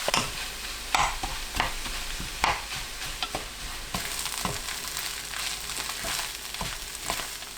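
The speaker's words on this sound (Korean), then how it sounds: "고추, 밥 넣고 중불로 바꾼 뒤 골고루 섞어가면서 볶아주세요." Rice stir-fried with chili and canned saury kimchi over medium heat, giving a continuous sizzle with periodic scraping strokes of a utensil mixing in the pan, close by and with no voices.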